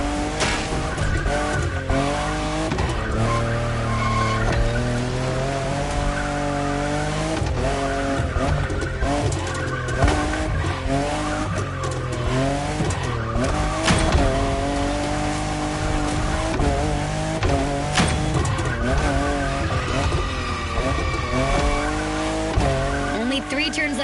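Racing in The Crew Motorfest with a fifth-generation Toyota Supra: a steady, loud engine drone with shifting pitch and tire squeal runs throughout, mixed with game music and a voice.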